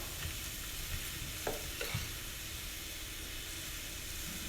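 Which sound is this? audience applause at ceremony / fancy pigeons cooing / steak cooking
steak cooking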